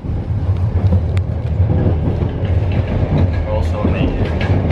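Inside a moving passenger train carriage, a steady low rumble and rolling rail noise fills the space, with a faint rhythmic clatter underneath and voices speaking over it.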